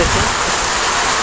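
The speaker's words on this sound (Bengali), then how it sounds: "এখানে তো প্রচুর বৃষ্টি, এখানে থামার লক্ষণই নাই দেখছি" Heavy rain pours down in a loud, dense, continuous hiss that masks everything else, with a voice faintly present beneath the downpour.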